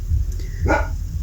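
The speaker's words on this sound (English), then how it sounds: "Excuse my dogs" A dog barks once indoors in a house, a short sharp bark over a low background hum, with a faint room tone around it.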